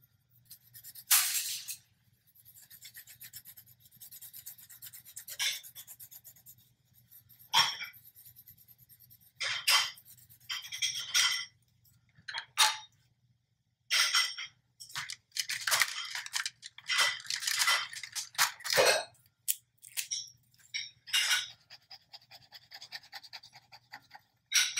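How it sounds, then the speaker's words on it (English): Brown colored pencil scratching across paper while coloring in a drawing of a pig, in bursts of quick back-and-forth strokes with short quiet gaps between, close and fairly soft. "since I used a brown color pencil, I'm just gonna keep going with that brown"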